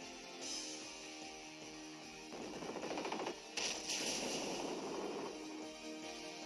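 A burst of attack sound effects from Magnezone's Mirror Shot in Pokémon X: a loud, crackling, rapid barrage that rises for a few seconds over steady in-game music.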